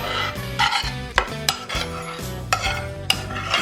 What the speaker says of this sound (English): I'm going to be putting the onions and the garlic in all this wonderful bacon